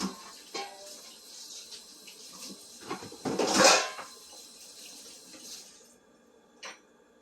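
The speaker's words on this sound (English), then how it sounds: "I'm gonna wash my bowl right away." A bowl is washed under a running kitchen tap, with water splashing and hissing in a continuous stream, soft clinks and knocks of the dish, and a louder splash burst midway before the flow cuts off, no voices.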